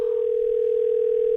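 A telephone line tone on an outgoing call, one steady unbroken electronic tone held for the whole moment, clear and alone without voices.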